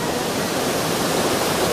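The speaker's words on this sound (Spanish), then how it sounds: "Impresionante la cascada El Calellu." The El Saltu Caleyu waterfall in Cabrales, Asturias roars as a loud, steady broadband rush of falling water with no talk over it.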